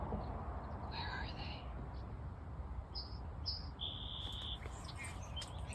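Several short, high bird chirps and tweets sound intermittently at a distance over soft background noise, with quiet whispering nearby.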